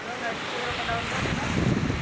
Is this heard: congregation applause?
no